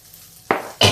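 Boiled potatoes added to a hot pan for frying, two sharp sizzling bursts close by, the second slightly louder, after a brief quiet moment.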